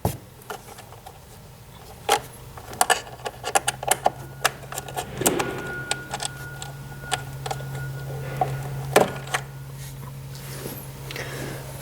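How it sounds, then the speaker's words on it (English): A screwdriver loosens Phillips head screws on the cable guides of a Novo massage chair, making faint scattered clicks and light taps over a steady low hum. "cable guides along the left-hand side that are secured by Phillips head screws. We're just going to loosen those"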